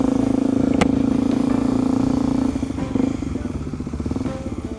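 A Suzuki DRZ250 motorcycle engine idles and runs up close in first gear, a steady loud thumping drone with some mechanical clatter, easing slightly lower and rougher toward the end.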